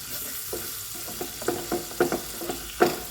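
Fish molee with green chilli and salt being stirred in hot oil: a soft frying hiss broken by several scattered, close spatula scrapes and knocks, with no talking.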